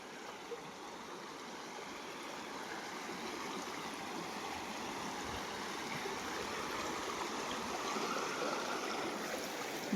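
A river in the Konkan countryside flows steadily past stones near a small weir, a continuous broad rush of water holding an even level from start to finish with no voices.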